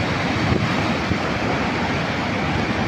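Heavy rushing water roars steadily and loudly without a break, like a powerful torrent pouring close by, released through the open gates of Tigra Dam near Gwalior after heavy rain.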